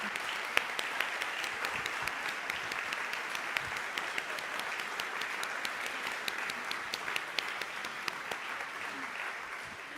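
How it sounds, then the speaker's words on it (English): Sustained applause from a crowd, many hands clapping steadily for about ten seconds, fairly even in loudness. "Can we have a round of applause?"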